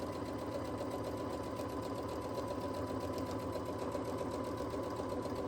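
A sewing machine runs a straight quarter-inch seam through fabric, a faint, even mechanical whir with a rapid repeating stitch rhythm that carries on without pause.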